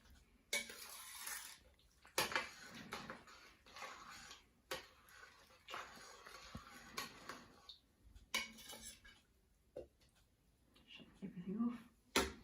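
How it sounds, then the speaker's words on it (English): A utensil stirs homemade elderflower cordial with citric acid, lemons and elderflowers in a pot, making sparse clinks and scrapes against the container between quiet pauses. "Give it a really good stir."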